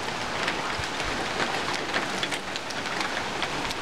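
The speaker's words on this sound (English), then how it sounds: "if the sound doesn't give you any indication, but through those trees, nice big thunderstorm" Heavy rain pours down steadily from a big thunderstorm cell, a dense unbroken patter of drops with no voices over it.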